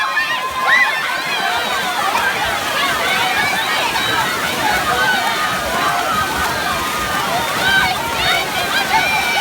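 Swimmers in a pool race at summer camp pool games churn and slosh the water continuously, a busy mid-distance splashing with crowd voices and shouting mixed in.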